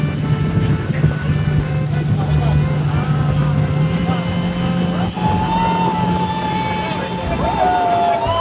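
A boat arriving and carrying passengers off Île aux Cerfs, Mauritius, gives a loud, steady engine drone with wind and water rush throughout, holding an even hum from start to finish.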